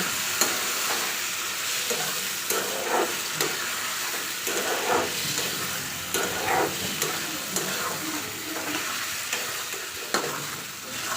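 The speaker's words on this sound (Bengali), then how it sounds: "ভালো করে এরকম করে নাড়াচাড়া করে কষে নিতে হবে" Food sizzles and fries in a pan for a Bengali dish being cooked down, while a utensil stirs and scrapes through it in repeated strokes. The hiss is loud and steady throughout, and nobody speaks.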